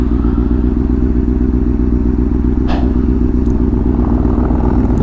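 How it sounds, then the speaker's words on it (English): A Harley-Davidson motorcycle rumbles loud and close with a steady, deep throbbing engine note throughout, a brief clatter partway through, and no voices. "Nice Harley."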